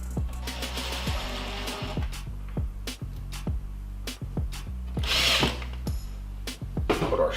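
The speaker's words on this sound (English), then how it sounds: "We're simply going to start our screws in between that mark." A power drill drives screws into sheetrock over hard-dried rough-sawn strapping during a kitchen repair, its motor whirring steadily with repeated sharp clicks and bursts of the bit biting in, close and loud throughout.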